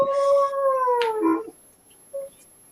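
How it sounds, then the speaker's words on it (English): A dog howls in a long, drawn-out wail that slides downward and breaks into a whine, then gives one short whimper after a pause. It is fairly close and heard alone, with no talking. "That poor dog. I'm feeling bad for that dog. Making a sound."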